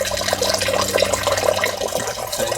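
Water drains steadily out of a house's plumbing after the supply is shut off at the main and the hot water tank, making a continuous close rushing trickle with no talking.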